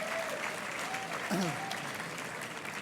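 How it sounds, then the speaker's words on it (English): A dinner audience at the Empire State Pride Agenda 2009 fall dinner applauds in a steady, dense wash of clapping that lasts throughout, with a few voices rising briefly above it. "Please give a big round of applause to them"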